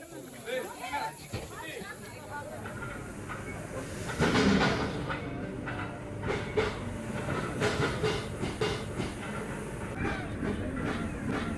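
The Nilgiri rack railway toy train grinds uphill on its cog-wheel track with a continuous rumble, hiss and rhythmic clatter, while passengers chatter nearby throughout.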